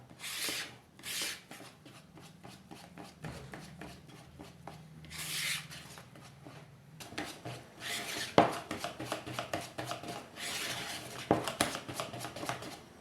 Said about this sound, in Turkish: şimdi pürüzsüz hale gelinceye kadar çırpacağım